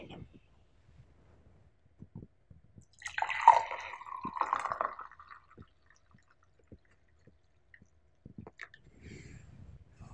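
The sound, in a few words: pouring a unicorn latte drink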